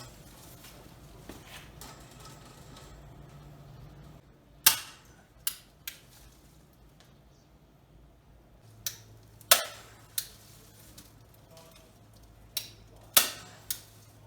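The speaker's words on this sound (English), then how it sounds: "I'll just attach it to the rear of the frame with a staple gun." A staple gun fires staples into wire mesh on the rear of a wooden garden frame, sharp isolated snaps spaced irregularly, about eight in all, close and crisp over a quiet room hum.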